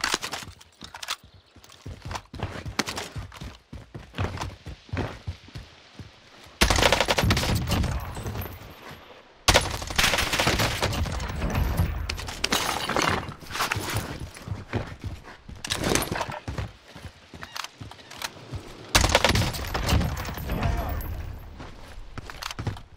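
Rapid XM4 assault rifle bursts in a first-person shooter game, loud and close, with repeated sustained volleys and short gaps, plus footstep-like clatter between bursts.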